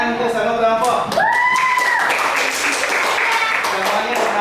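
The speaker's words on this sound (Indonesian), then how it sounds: "jadi tepuk tangan untuk semua kelompok" Participants in a madrasah teacher-training classroom applaud the groups, with brisk clapping building after a brief voice and carrying on steadily to the end.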